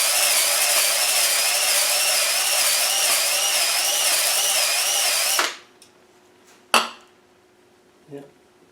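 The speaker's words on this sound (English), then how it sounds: "So we use our deglazer." A deglazing hone spins inside a cylinder bore of a Maxion 300Tdi diesel engine from Argentina, scraping off carbon with a loud, steady, wavering drill whine for about five seconds before stopping, followed by a sharp metallic clank and a softer knock.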